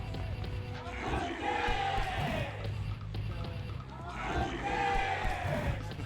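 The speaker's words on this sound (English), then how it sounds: "I love this crowd." A tournament crowd at a fighting game event cheers and roars in two rising swells, loud and close, under excited commentary.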